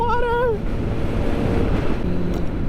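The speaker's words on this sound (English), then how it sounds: "Oh, water!" Waves and water washing near a roadside during a motorcycle ride, heard as broad rushing noise mixed with heavy wind buffeting, continuous and loud, with a brief whistly tone at the start.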